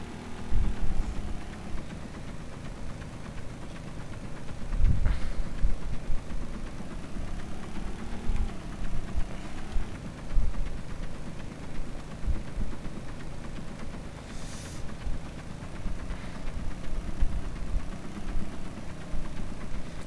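A helicopter engine in the video game Stormworks runs as a steady mechanical drone with gently wavering pitch and occasional louder swells, with no talk over it.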